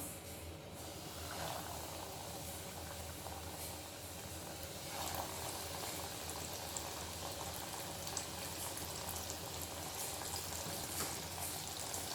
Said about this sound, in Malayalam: നമുക്കിത് ഓരോന്നായി ഫ്രൈ ചെയ്തെടുക്കാം